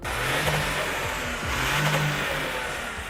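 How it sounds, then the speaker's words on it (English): A car engine breathing through an 8-into-1 top-mounted exhaust manifold revs hard and close, its rising and falling pitch sweeping twice over a loud, raspy high-pitched exhaust roar. "The 8-into-1 top-mounted exhaust manifold that creates a unique high-frequency sound."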